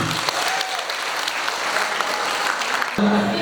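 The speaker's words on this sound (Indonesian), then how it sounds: "Tepuk tangan dong Mas Ali." A school crowd at a high school campus visit event applauds in a continuous wash of clapping, and a sudden hum cuts in near the end.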